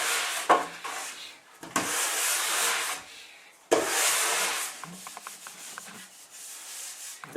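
Brush scrubbing loose wax off a snowboard base, with several close, scratchy strokes in bursts, each separated by a short pause.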